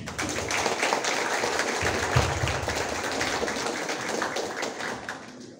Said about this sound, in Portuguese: Peço a todos uma salva de palmas para o Guilherme.